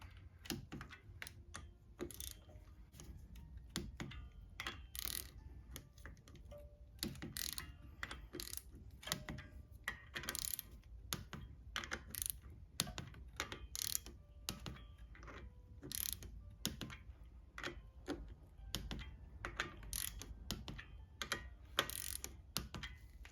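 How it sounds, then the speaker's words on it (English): Repeated mechanical clicks from a torque wrench tightening clutch cover bolts on a Yamaha Tenere 700 motorcycle, close and crisp, in irregular bursts of ratcheting snaps with short pauses between them. "These get torqued to 8 Newton meters."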